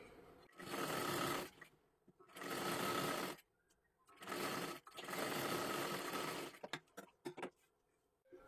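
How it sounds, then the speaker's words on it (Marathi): A sewing machine stitches fabric along a sleeve edge in three long, steady whirring runs separated by short pauses, followed by several quick stop-start bursts at the end, close and clear with no talking. "इथे एकदम कडेकडेला आपल्याला शिलाई मारून घ्यायची आहे"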